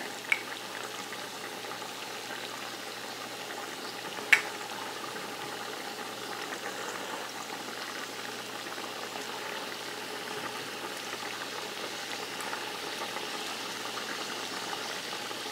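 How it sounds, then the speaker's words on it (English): Rice boiling in a pot with quail pieces set in, a steady low bubbling hiss and faint simmer throughout, quiet and even with a couple of small clicks, no talking. "Okay, the rice is up to a boil."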